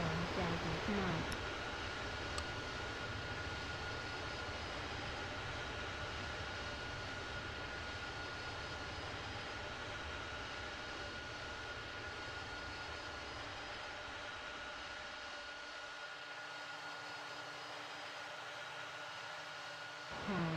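An airliner rumbles steadily through a landing at a Sint Maarten airport in the game World of Airports, a loud, continuous engine roar that eases slightly near the end.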